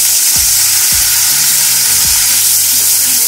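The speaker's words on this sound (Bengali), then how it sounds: "পেঁয়াজ বাটাটা দিয়ে খুব ভালোভাবে ফ্রাই করে নেব" Onion paste fries with spices in a pan over a medium gas flame for a Bengali doi bhetki dish: a steady, loud, bright sizzle, broken by a few low knocks from stirring.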